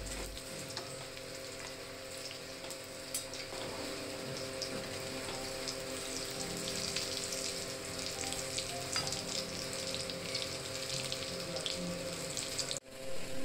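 Egg devils deep-frying in hot oil in a wok over a medium gas flame give a steady, dense sizzle and crackle that runs unbroken for the whole stretch, with a brief knock near the end and no voices.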